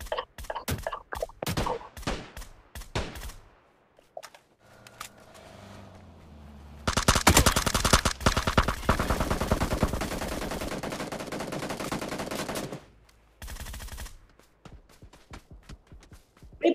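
Sniper and rifle shots in PUBG New State crack sharply in quick succession at first, then dense sustained gunfire dominates the middle before a few more scattered shots, loud and close with no talk.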